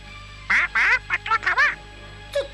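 A cartoon parrot lets out a quick run of about seven short, close, raspy squawks, with a pause before one final cry, all clearly voiced by a performer.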